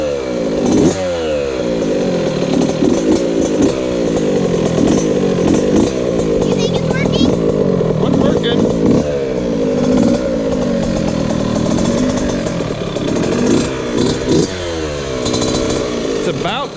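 Yamaha YZ65 two-stroke dirt bike engine fitted with an FMF Turbinecore 2 spark arrestor, idling and revving loudly up close with a raspy buzzing note that rises and falls repeatedly.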